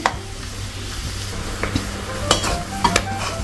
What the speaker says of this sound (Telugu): చిన్న మంట మీదే వేపుకోవాలి. కొంచెం వేగాయండి, ఇంకొంచెం వేగాలి